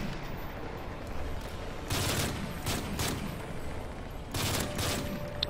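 Light machine gun fire in Modern Warfare 3 Spec Ops, heard as two loud sustained bursts of rapid automatic shots over a steady low battlefield rumble.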